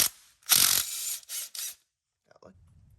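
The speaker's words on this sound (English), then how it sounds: "Let's pull this flywheel off and see if there's anything in there going on." A ratchet turns on the flywheel nut of a Honda XR70 dirt bike engine, sounding as a few quick, close, loud bursts of clicking separated by short pauses, then faint handling noises.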